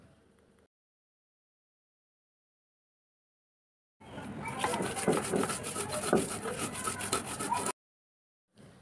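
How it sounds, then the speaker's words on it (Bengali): Dried chillies and salt ground by hand on a grinding stone, a close, coarse rubbing and scraping in steady back-and-forth strokes, heard alone in a burst of about four seconds between stretches of silence. "এখন এই মরিচের মধ্যে পরিমাণ মতো লবণ দিয়ে দেব, দিয়ে আমি সব কিছু ভালোভাবে বেটে নিব"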